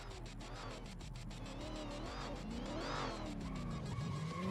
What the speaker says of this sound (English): Listen to that supercharger whine as he comes around.